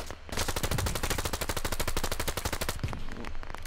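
A long, rapid burst of full-auto rifle fire in the video game Operation Harsh Doorstop, set in a Cold War–era scenario against Soviets, loud and steady for about three seconds before cutting off.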